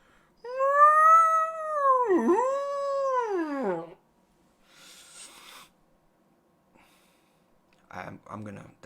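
A human voice imitates a creature's call, part whale song and part howl, in a long, loud, wavering tone that dips and rises, followed by faint breathy sounds and brief speech.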